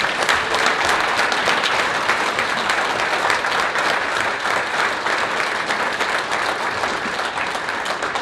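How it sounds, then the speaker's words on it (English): A ceremony audience honoring top nurses breaks into sustained applause, a thick, even wash of many hands clapping at close range that holds steady for the whole stretch. "Please give another round of applause for this group of incredible nurses."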